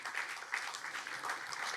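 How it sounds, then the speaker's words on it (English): Audience at a film festival opening night applauds steadily for a short burst, a dense even patter of many hands filling the room. "Yes, applaud Raymond."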